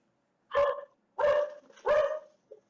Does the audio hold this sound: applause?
no